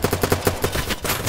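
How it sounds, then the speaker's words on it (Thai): Rapid bursts of automatic gunfire from a free-to-play first-person shooter game, a quick run of about eight sharp shots that stop abruptly, with no voices. "ศัตรูมันยิงกันแบบไปไม่ได้เลยครับ"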